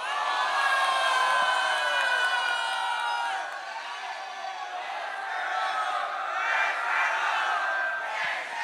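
A crowd at a Brazilian rap battle semifinal in Amazonas roars, whoops and shouts in a loud, sustained wall of voices that dips briefly partway through and then swells again.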